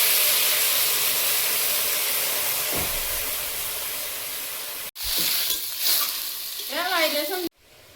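Potatoes for aloo dum with salt and cumin powder sizzle in a pan, a loud, steady hiss that cuts off and then returns, with softer bubbling and a brief wavering whistle near the end.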